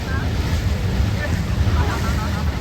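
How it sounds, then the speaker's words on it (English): Strong wind buffets the microphone on a cruise boat on the Douro River in Porto, Portugal, a steady loud rumble with splashing water and engine noise underneath, continuous throughout. "it seems to be a lot windier when you get out on the water"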